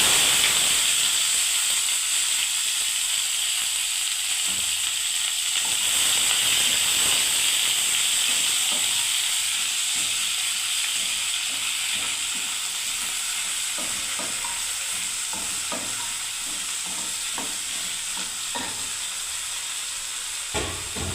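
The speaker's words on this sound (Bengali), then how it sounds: "আমি এবারে পেঁয়াজগুলোকে আমি দিয়ে দিচ্ছি" Sliced onions frying in a pan for Bengali posto give a steady broad sizzle and hiss throughout, with scattered clicks of stirring scattered over the second half; no one speaks.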